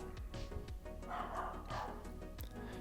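A pet dog barks in short yips repeatedly indoors, its calls layered over steady background game music and chatter.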